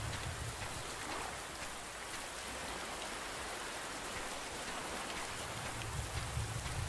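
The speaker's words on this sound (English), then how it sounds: "This is a good rain." Heavy rain pours steadily and close by, a dense unbroken hiss of drops striking surfaces, with a low rumble beneath and no voices.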